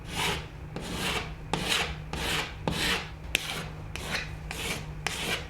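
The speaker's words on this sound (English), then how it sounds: "I'm gonna use this putty knife." A putty knife spreading Roman clay across a wall, about ten rhythmic scraping strokes, close and quiet, each smooth rasp ending in a light tap, with no talk.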